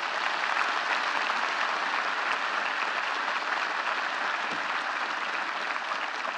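Steady, dense applause from a large audience at a university State of the University address, honoring the Leadership Council, sustained and even throughout with no talk over it.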